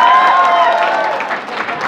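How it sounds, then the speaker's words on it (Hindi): Loud audience applause and cheering in a university hall, a dense wash of clapping with tonal voices or music mixed in, sustained for a couple of seconds. "वंस अगेन एक बार जोरदार तालियां हो जाए आपके लिए"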